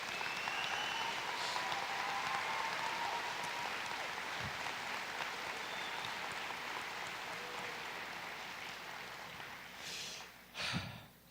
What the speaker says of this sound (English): Please give yourself and everyone around you a round of applause for the amazing community